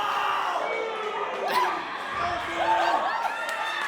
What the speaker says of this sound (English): I definitely heard a couple of boos amongst the cheers.